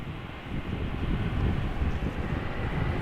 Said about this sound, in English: Aer Lingus Shamrock Flight 604 arriving from Dublin. Now touching down, A320